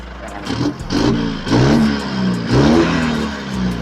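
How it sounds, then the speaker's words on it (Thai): The 1.9 engine of a 2020 Isuzu D-Max pickup is revved in several rising surges that fall back between blips. It sounds loud and close, with faint voices in the background. "เดี๋ยวดูฟังเครื่องดังแรงหรือเปล่า"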